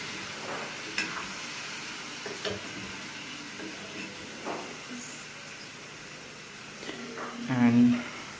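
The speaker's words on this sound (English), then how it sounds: "Once the masala paste is added, you have to stir it well as well." Masala paste sizzles in a pan for a Dal Bhat dish while it is stirred, a steady low frying hiss with scattered scraping taps and a louder burst near the end. A voice talks faintly at times.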